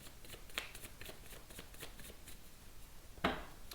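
Oracle cards are shuffled by hand in quick papery riffles and slides, close and fairly quiet, ending with a sharper snap of the deck.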